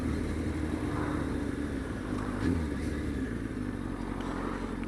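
Motorcycle riding along country roads, a steady engine drone with wind rush heard from the rider's position, a brief swell midway, no talk.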